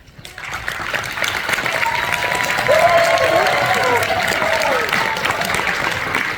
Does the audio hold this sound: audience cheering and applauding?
yes